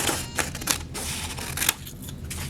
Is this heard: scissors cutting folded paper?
yes